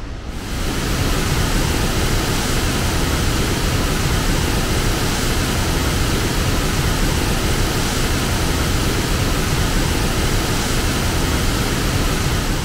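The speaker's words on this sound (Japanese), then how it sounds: "ここは滝のもう目の前まで行けちゃいますね。" Harajiri Falls, a wide curtain waterfall in Japan, heard from right in front of it: a loud, constant, broadband roar of falling water that fills the whole stretch without change and without voices.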